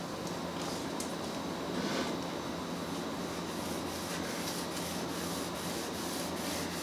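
Steady close rubbing of a cloth pad hand-polishing a gloss lacquer finish with lubricant on a 1979 Thomasville wooden end table with mosaic grain, a continuous soft abrasive swishing with no talk.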